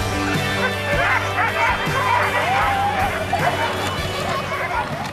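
A pack of sled huskies in snowy Lapland bark and yip excitedly, a dense, continuous chorus of overlapping barks and whines, loud and close, with human chatter mixed in.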